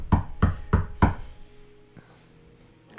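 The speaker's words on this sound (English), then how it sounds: "I'm just gonna go up and knock on the door." Four firm knocks on a door in an evenly spaced sequence, close and sharp, followed by a quieter pause with faint background noise and a soft thump.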